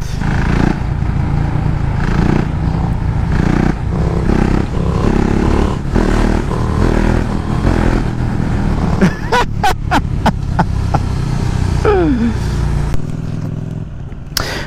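A motorcycle engine runs while the bike is stopped, a steady close rumble with a few sharp clattering clicks near the end and no talk.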